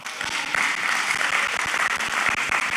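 Loose, scattered clapping from a church audience at a Seattle meet-and-greet event, moderately loud with uneven individual claps over a roomy background hum, continuing steadily for a few seconds without talk.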